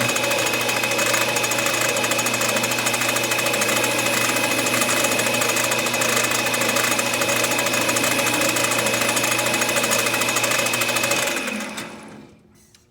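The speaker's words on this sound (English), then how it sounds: "So I come in first with the cutoff." A cutoff wheel parting a copper tube to make a one-inch bead, giving a loud, steady machine whine and hum that runs continuously for about eleven seconds before winding down and stopping.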